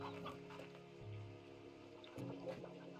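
Briar hens cluck in Slime Rancher 2, a soft repeated clucking set among steady game ambience and a low hum, with a few brighter chirps near the end.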